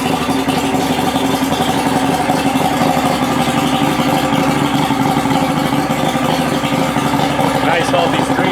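An outboard engine on a 1989 SeaCraft 18cc center-console boat idles with a steady, even, close-up mechanical rumble and chugging throughout, with no pause or change in pace.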